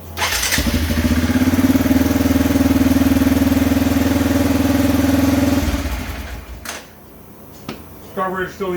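Arctic Cat 400 4x4 ATV engine idling roughly nearby, a steady loud mechanical drone for about five seconds that then cuts out, followed by brief clatter and faint rustling.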